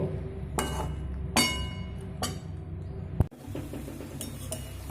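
Mixed vegetable chorchori with fried eggplant, pumpkin and fish being stirred in a pan, heard as a few sharp clinks and scrapes of a utensil against metal, spaced out over steady low kitchen background, with one louder knock near the end.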